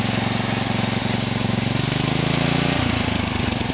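Nitro engine of an OFNA RC car running steadily at a rough, buzzing idle throughout, loud and close, with a slight shift in pitch near the end.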